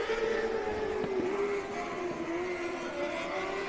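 A 600 series race car on the I-44 Speedway oval accelerates hard under throttle, its high engine whine steady and loud with a slight pitch dip and climb, blended with other cars' drone in the background.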